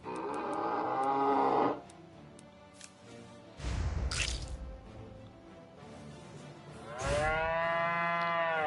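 Cattle in the South Park: The Stick of Truth game moo loudly three times, long drawn-out bellows separated by pauses, with a brief noisy burst in between.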